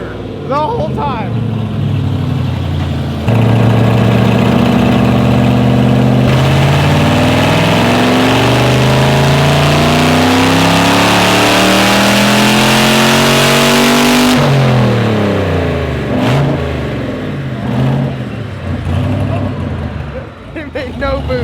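A car engine that is making no boost and little power is revved hard on a dyno. It holds a loud, rough, rising drone for several seconds, drops back, then gives shorter revs as people talk nearby.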